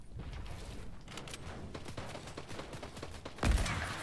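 Gunfire in a shooter video game, with dense bursts of crackling shots and rapid pops throughout and a heavier boom near the end, heard at moderate volume with no talking.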